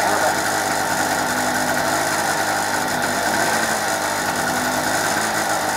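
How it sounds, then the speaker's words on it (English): A small two-stroke generator engine, restarted after two years unused and still cold, runs steadily with a dense, buzzing drone that holds constant and loud throughout. "there you go, one of those small generators."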